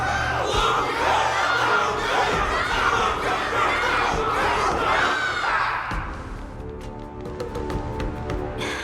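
Loud crowd cheering and battle cries from a Wardance event in a video game, a dense roaring wall of voices for several seconds that then drops to a quieter murmur with scattered shouts.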